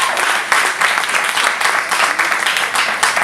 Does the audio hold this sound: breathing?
no